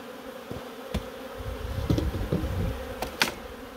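Honey bees buzzing in a steady, close drone after their colony has been shaken out onto a hive floor, with a few sharp knocks and bumps scattered through it.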